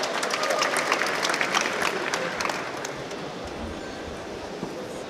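Sustained applause from a crowd at a Fight Nights Global 64 MMA weigh-in, steady and dense clapping filling the space before gradually easing off slightly.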